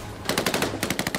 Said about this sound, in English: And the grease gun. Submachine gun with an unusual history.